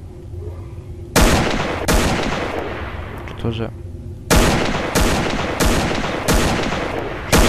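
Loud, close gunshots from a weapon in S.T.A.L.K.E.R.: Lost Star (Упавшая звезда), a single shot, a pause, then a rapid run of about five evenly spaced blasts, with someone briefly speaking between them.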